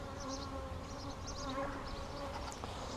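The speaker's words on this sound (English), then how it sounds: "Look at all the bees coming in, man." Bees buzzing around a top bar hive during a spring split, a steady droning hum with individual insects swooping past nearby and dozens more humming in the background.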